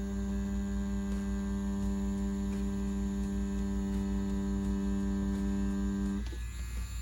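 CNC Q1 tattoo machine running with a steady, tonal electric hum that holds evenly and then cuts off near the end, no voices over it.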